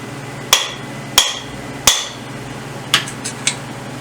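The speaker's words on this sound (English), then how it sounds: "This is a brass hammer," A brass hammer strikes a bearing being driven into a BSA 350 motorcycle engine case, giving six sharp metallic knocks at uneven intervals, the first three loudest and the last ones lighter, close up with no talking.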